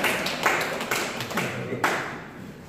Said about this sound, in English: Some people are clapping weak.